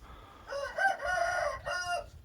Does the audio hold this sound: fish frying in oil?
no